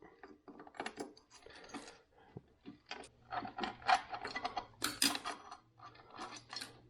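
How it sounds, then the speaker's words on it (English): Camshafts being worked out of a motorcycle engine: a run of sharp metallic clicks, clinks and scrapes from parts and tools, close by, in irregular bursts with short quiet gaps. "we can go ahead and sneak our camshafts out"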